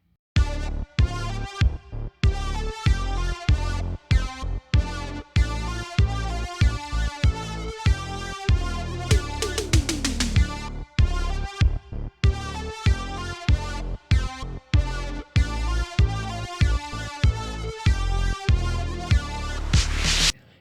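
Full song mix in which a distorted guitar tone made from the Caustic 3 bassline synth drives alongside drums and toms, loud and dense throughout, with brief dropouts and a sweeping fill near the middle.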